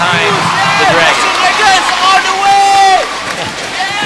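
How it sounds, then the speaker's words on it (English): Home crowd at a Dragons basketball game cheering and roaring, a loud continuous wall of noise with whistling tones over it and a commentator talking on top throughout. "now we're really starting to hear it from the home crowd getting behind the Dragons"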